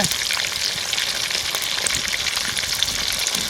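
Giant freshwater prawns fry in hot oil with a close, dense, steady sizzle and crackle that continues throughout.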